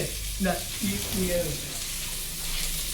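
Onions sauté for biryani in a pan, a steady close frying hiss with a few faint stirring scrapes, and quiet voices murmuring in the background.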